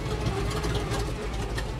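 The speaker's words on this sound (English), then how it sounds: "right around a 600 RPM idle" A freshly installed car engine with headers, half-inch exhaust and down dumps idles at about 600 RPM, a close, steady low rumble with a lumpy pulsing throb.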